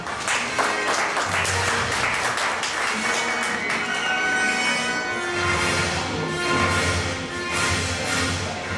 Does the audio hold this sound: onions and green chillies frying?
no